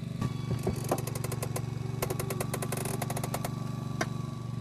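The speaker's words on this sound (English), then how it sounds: "You can see the spreaders are starting to do their roll." Hydraulic spreaders prying at a car door hinge during a total side removal in vehicle extrication, a loud steady engine-driven power-unit drone with rapid rhythmic clicking bursts and occasional metallic knocks.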